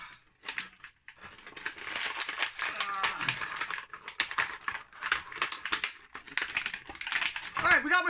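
Marvel Legends action figures being popped out of stiff plastic blister packaging, with rapid crinkling, cracking and clicking plastic in irregular bursts, close and loud, while someone talks.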